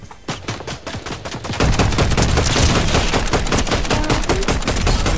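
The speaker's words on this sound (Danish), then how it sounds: "Der er skud her for mig." Rapid video game gunfire rattles loudly, first in spaced shots, then a dense, sustained barrage of automatic fire that continues to the end.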